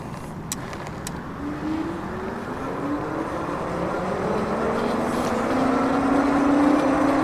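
A Philodo Hunter electric bike accelerates on its thumb throttle, its faint motor whine climbing steadily in pitch beneath a continuous rush of wind and road noise.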